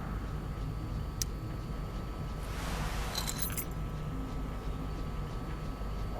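Keys jangle briefly as they are picked up from a small ashtray in Life Is Strange: Before the Storm, a short bright metallic rattle heard over a steady background hum.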